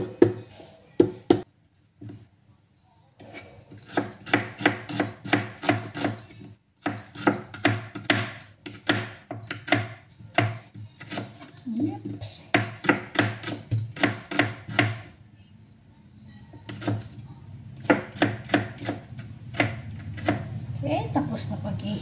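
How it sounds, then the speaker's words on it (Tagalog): A knife chops tomato and ginger on a board for chicken tinola, giving crisp close knocks in fast bursts separated by short pauses, with a few isolated taps at the start. "Tapos na paghihiwa, igisa na natin."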